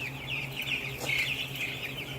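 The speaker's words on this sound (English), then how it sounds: "here's a big old Cornish Cross Giant, and he is getting big" A Cornish Cross Giant chicken in a week-old chick brood gives a few soft clucks over a constant background hum, close and fairly quiet, with no voices.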